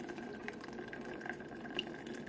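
Herb-filled liquid poured from a pot into a jar for a spiritual bath, a soft steady trickle and splash running throughout, close and fairly quiet.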